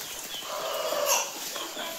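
Desi country chickens inside a hen house give brief clucks and calls over a faint background, fairly close and scattered across a couple of seconds.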